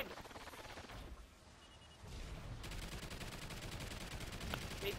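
Turret gunfire in the Call of Duty Ghosts Extinction co-op game, a sustained rattling burst that drops off briefly and then resumes heavier and denser, continuing steadily to the end.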